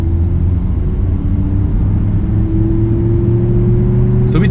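A BMW M5 E61 Touring with a V10 pulls away in second gear, a loud, close, steady engine hum that rises slowly in pitch, ending with a brief high whine.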